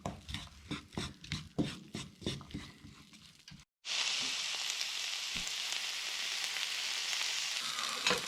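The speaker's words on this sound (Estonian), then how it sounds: "Siis panemegi pannile sibula, viilutatud, tükeldatud paprika ja küüslaugu küüned korraga kõik siia panni peale." Onion, sliced bell pepper and garlic cloves dropped into a hot pan after a run of rhythmic chopping knocks, then a loud, steady sizzle of frying that carries on close by.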